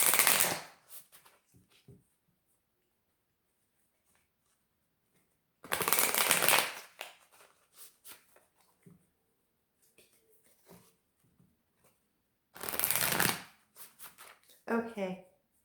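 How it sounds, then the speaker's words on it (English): Moonology oracle cards are shuffled in three separate riffling bursts, close and crisp, with quiet gaps and small handling taps between them. "Now I will be pulling from the Moonology cards."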